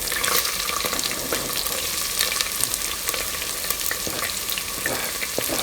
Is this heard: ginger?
yes